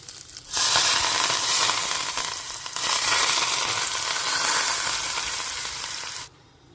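Mustard seeds and cumin tempered in hot oil are poured in, bursting into a loud, steady sizzle that swells and holds for several seconds before cutting off abruptly, no voices.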